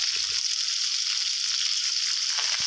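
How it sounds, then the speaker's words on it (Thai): Broccoli, cauliflower and carrot stir-frying in a hot pan, a steady loud sizzle with a brief stir or clink near the end. "เอาประเภทผักที่สุกยากก่อนนะครับ"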